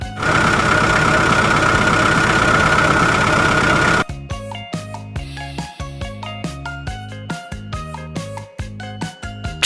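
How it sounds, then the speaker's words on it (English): A truck engine rumbles loudly and steadily for about four seconds, then cuts off as bouncy music takes over. "Truck."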